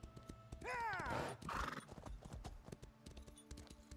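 A horse in The Elder Scrolls Online whinnies loudly with a descending neigh, followed by steady clip-clopping hooves and game-like background sounds.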